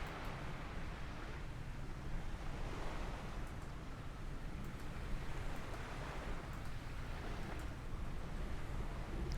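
Ocean water and waves wash steadily in Microsoft Flight Simulator 2020, a continuous broad hiss of surf with gentle swells and wind-like rushing, faint and even throughout with no voices.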